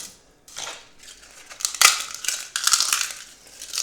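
Crisp, dry crunching and crumbling close up, coming in several bursts with short pauses between, loud and crackly with no talking.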